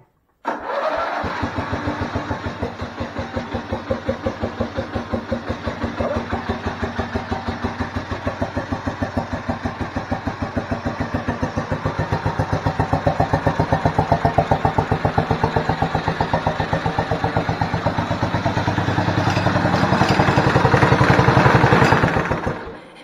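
An old racing tractor engine, long unused after its fuel system was re-primed, cranks and catches, then runs with a steady rapid mechanical chugging idle at close range, swelling louder near the end.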